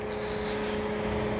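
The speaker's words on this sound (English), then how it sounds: "the giant fans that are gonna have to run for the next half hour to cool this thing down" Large cooling fans running after a test drive of a 2021 Mercedes-AMG GLS 63, a loud steady drone with a constant tonal whine and no voices.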